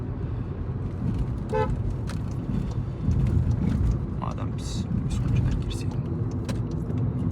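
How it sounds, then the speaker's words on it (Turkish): Volkswagen Polo 1.2 TSI DSG horn sounding in a few short toots over a steady car-interior and road rumble. "Kornası bu arada bayağı gürmüş."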